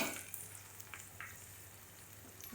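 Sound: onion and green chili frying in a pan for kanda poha

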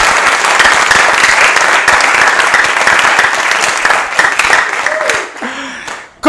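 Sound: applause

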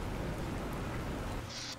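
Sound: rain falling in the video game The Planet Crafter

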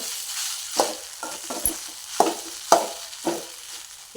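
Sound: stirring and mixing idli upma in a frying pan

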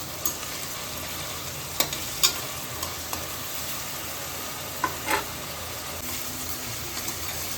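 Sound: onions sautéing in a pan for crab masala

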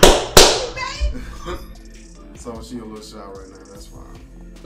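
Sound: fiancée clapping hands

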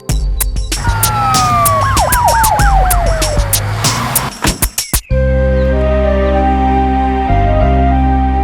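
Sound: ambulance siren in cartoon

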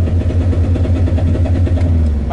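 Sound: car accelerating

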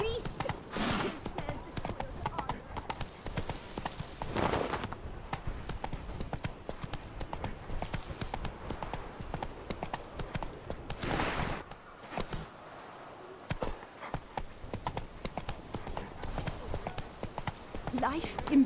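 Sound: horse galloping, clip-clop hooves, in video game The Witcher 3

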